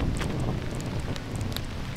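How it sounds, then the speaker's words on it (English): Steady rain falling outdoors, with a soft continuous patter and light wind noise on the microphone, close and fairly quiet, with no voices. "And now, lucky me, starting to rain."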